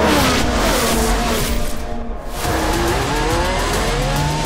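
Race cars overtaking in the F1 Manager 2023 racing game, with continuous loud engine roar and rising, sweeping pitch as cars pass, no talking.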